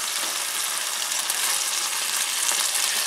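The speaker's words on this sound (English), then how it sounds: "I'm adding all of the juices as well. Stir that in." Canned petite diced tomatoes with their juices being stirred into a hot pot of chili, a broad continuous sizzle and wet hiss holding at an even level from start to finish without speech.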